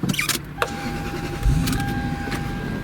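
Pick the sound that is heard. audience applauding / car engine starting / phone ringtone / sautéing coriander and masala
car engine starting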